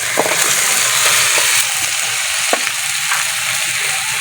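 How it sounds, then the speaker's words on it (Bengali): Fried potatoes tossed into a spice paste frying in oil and stirred, a loud dense sizzle with crackling and scraping stirs throughout, close by and without speech. "ভেজে রাখা আলুটা দিয়ে দেবো"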